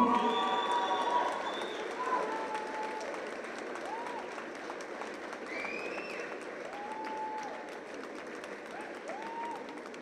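Audience applause at an Ethiopian artists' awards ceremony, a sustained patter of clapping that swells near the start and continues steadily, with cheering whistles and voices over it.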